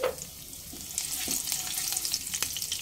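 Chopped green chillies dropped into hot oil with a bay leaf and whole cumin for a vegetarian mankochu curry, a bright, close crackling sizzle that stays busy throughout with faint stirring.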